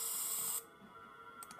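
A steady spray hiss from the video game Five Nights at Spy's runs loud for about half a second, then cuts off, leaving quiet game ambience and a short click at the end.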